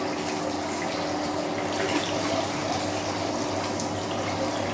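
Steady, close rush of running water during the cooling phase of buffalo mozzarella making, with freshly molded cheese being cooled in cold water; a continuous even gush with no pauses and no talking.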